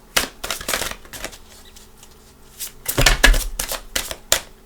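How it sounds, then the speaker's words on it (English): A deck of tarot cards being shuffled by hand makes rapid, papery riffles and flutters in close bursts, a long flurry, a pause, then another vigorous round, with no speech over it. "Let's go ahead and shuffle for your cards."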